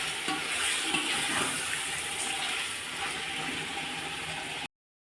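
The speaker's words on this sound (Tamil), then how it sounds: "அப்புறம் நம்ம தண்ணி ஊற்றிக்கலாம்." Water being poured into a pot of chicken biryani cooking on a stove, a continuous gushing splash that runs steadily for several seconds before cutting off abruptly.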